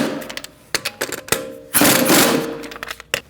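A 17 mm socket tightens the wheel lug nuts on a 2008-2014 Mercedes-Benz C300 in a star pattern, giving a series of close, sharp mechanical bursts and clicks, with one longer loud rattling burst in the middle.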